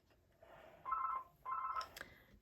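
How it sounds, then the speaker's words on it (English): A telephone rings twice in a quiet room, two clear electronic trill bursts separated by a short gap, followed by a faint click. "And of course the phone rings."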